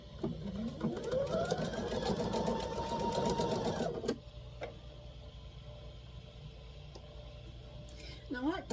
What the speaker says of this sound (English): Now we're going to sew our top and bottom on.